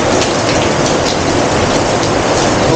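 Steady heavy rain falls at an outdoor cafe, a loud dense even hiss of drops with no voices, unbroken from start to finish.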